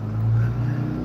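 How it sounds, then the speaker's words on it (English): A loud pickup truck passes close behind, its low engine rumble droning steadily through the brief moment and swelling slightly in the middle. "a very loud pickup truck again behind me"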